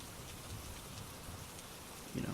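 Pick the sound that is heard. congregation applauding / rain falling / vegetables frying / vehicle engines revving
rain falling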